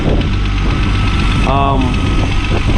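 A VW Golf MK4 R32 engine idles steadily outdoors on a very windy day, a continuous low throbbing hum, with a voice briefly speaking over it.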